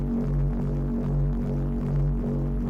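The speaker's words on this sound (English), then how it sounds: "if I put the distortion on this, distortion, soft clip, what does it sound like?" A music track run through soft-clip distortion, giving a thick, throbbing low-end drone with a repeating pulse that stays steady and loud from start to finish.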